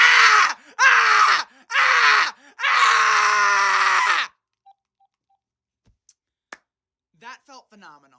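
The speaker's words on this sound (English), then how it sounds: "Please record a scream to share. Wait for the beep, scream," A person screams into a phone line to record a scream, letting out four loud, strained bursts with short gaps between them. Near silence follows, broken only by a faint tone and a few soft clicks.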